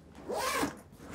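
A backpack zipper is pulled open in one smooth, rising-then-falling zip lasting about half a second, close up and alone.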